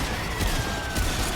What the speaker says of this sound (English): I'm shooting with a gun.